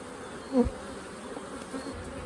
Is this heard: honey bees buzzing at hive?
yes